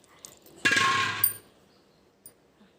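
Payasam (paramannam) served into a metal bowl, heard as a single brief metallic clang, with a faint clink afterward, in an otherwise quiet kitchen.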